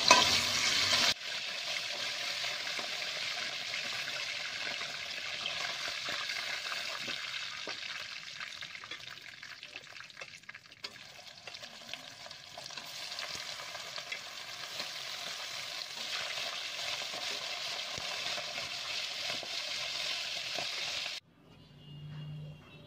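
Pieces of broiler chicken fry in oil in a home kitchen pan, a continuous close sizzle with occasional stirring scrapes, running evenly for over twenty seconds before cutting off abruptly near the end.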